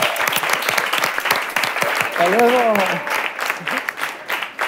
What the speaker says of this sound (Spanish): ¡Un aplauso para Chus Ayán!